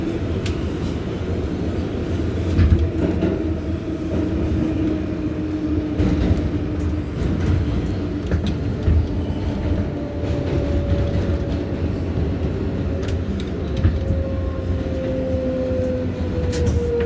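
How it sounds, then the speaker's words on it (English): An R142A 6 local train on the New York City subway runs between stations, heard from inside as a steady loud rumble with clattering rail noise and a faint whining motor tone that slowly falls in pitch. "This is a Bronx-bound 6 local train."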